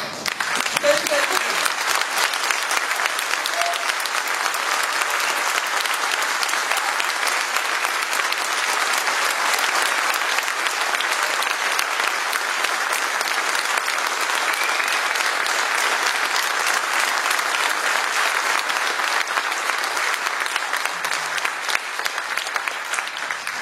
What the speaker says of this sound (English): A round of applause for the people of Gaza